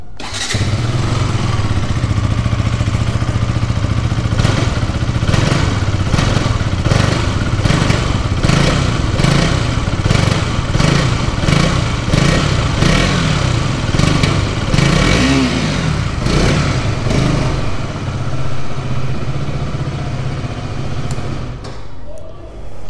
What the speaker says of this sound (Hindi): अभी मैं इसका आप लोगों को एग्जॉस्ट नोट सुनाऊंगा